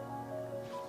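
The wheel of a Xiaomi electric scooter gives a brief, thin friction squeak, a steady tonal whine lasting about a second, close and fairly quiet.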